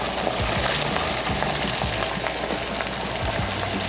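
A whole onion deep-fries in oil heated to about 400 degrees in a deep pot roughly 7.5 inches wide, producing a loud, dense, continuous bubbling sizzle with faint low knocks underneath.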